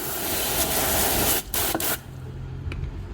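A car wheel is rinsed with a spray of water, a loud close hissing rush with brief breaks in the middle, then a quieter, thinner spray after the first two seconds.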